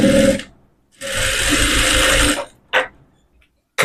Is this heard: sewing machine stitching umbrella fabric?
yes